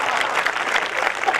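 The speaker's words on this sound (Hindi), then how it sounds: "एक बार तालियां बजाओ अगर मजा आ रहा होगा" Audience applause at a Hindi comic poetry recital (kavi sammelan) in Jawal, a steady dense wash of many hands clapping without letup, loud and continuous throughout.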